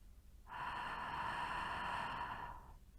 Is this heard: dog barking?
no